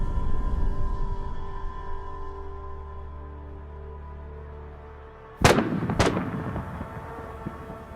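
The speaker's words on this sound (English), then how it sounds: "one of the armored vehicle's ammunition detonates, causing a massive explosion." Two sharp, loud blasts about half a second apart as an armored vehicle's ammunition detonates, cutting through a steady low rumbling hum, leaving a brief echoing tail.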